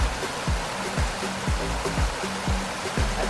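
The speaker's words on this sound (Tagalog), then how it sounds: "Medyo malakas din ang agos ng tubig" Fast-flowing stream water rushing at a small waterfall, a steady broadband roar close by with repeating low splashing pulses, no voices.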